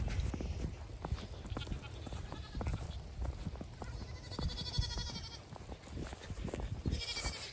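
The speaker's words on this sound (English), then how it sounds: "I could hear the goats out here making a bunch of noise" Goats bleat repeatedly on a snowy farm, several calls scattered at close to middle distance over faint background noise, with soft rustling and occasional thumps between them.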